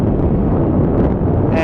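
Gusty wind roars steadily across an outdoor microphone at Phoenix Sky Harbor International Airport while a Boeing 777 from London makes a windy landing, a loud broadband rush that drowns out any distinct engine sound.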